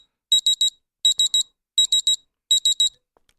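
Beeping alert from a liquid-level gadget that clips onto a coffee cup: four loud, clear groups of three quick high electronic beeps, evenly spaced with silence between them, like an alarm clock.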